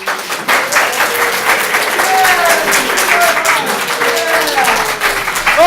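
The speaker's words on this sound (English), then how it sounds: "let's start clapping and yelling and stuff like that" A conference audience at a JavaScript talk claps steadily and loudly, with a sustained wash of applause and some whoops and yells rising over it throughout.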